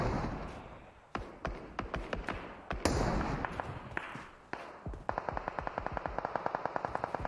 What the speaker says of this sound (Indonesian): PW88 Aiman sekarang melepas tembakan bertubi-tubi